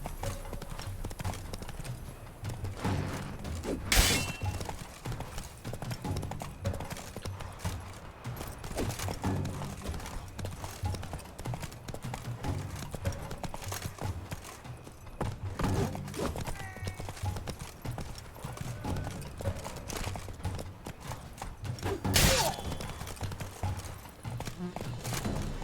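Roach the horse galloping in The Witcher 3, rapid rhythmic hoofbeats clip-clopping steadily throughout, close and fairly loud, with a couple of sharper accented hits along the way.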